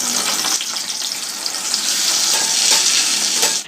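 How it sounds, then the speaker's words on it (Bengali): Eggplant frying in hot oil in a wok, a loud continuous close sizzle with occasional stirring scrapes. "তো চলো বেগুনটা ভাজা হোক"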